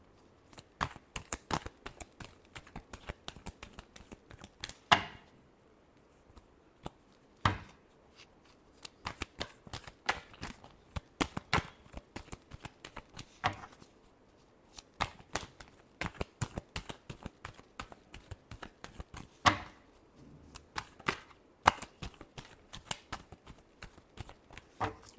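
Tarot cards are shuffled close up, giving bursts of sharp riffling and tapping clicks with short pauses between them.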